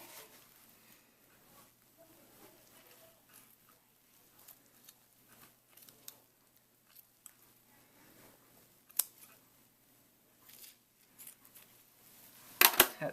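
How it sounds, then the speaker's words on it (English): Scissors cut through skin while a cat carcass is skinned, giving faint, scattered snips and small clicks in near silence. A sharper cluster of louder snips comes at the very end. "I'm going to take my scissors."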